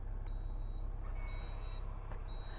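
Warning beeps from the electronic deployable tow bar of a new Land Rover Defender 90 L663 with a flat battery, a few thin high-pitched tones repeating at intervals over a steady low vehicle rumble.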